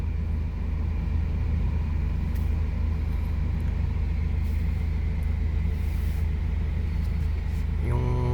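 Steady road traffic on Kamias Road in Quezon City, a continuous low rumble of cars and larger vehicles passing close by, with a louder surge near the end.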